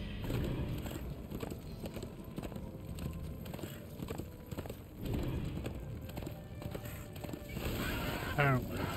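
A horse in the video game Darksiders 2 whinnies near the end, following steady hoof clops and background game ambience with a rolling, mid-level rumble.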